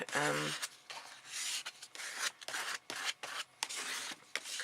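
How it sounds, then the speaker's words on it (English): A card scraping a thin layer of gesso across paper, repeated close dry rasping strokes in an uneven rhythm, fairly quiet, with a short voice sound at the start. "I'm just going to add a thin layer of gesso, still using the card, and just scraping it on there"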